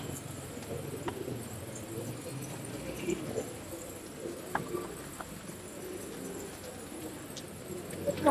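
White bar pigeons coo softly in a quiet loft, with low murmuring calls and occasional light knocks and rustles in the background; faint and steady throughout.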